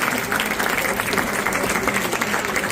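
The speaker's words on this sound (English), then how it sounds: "Give them a big round of applause" Loud, dense applause from a school audience after an inter-class debate, many hands clapping in a continuous roar close by, with some crowd voices mixed in.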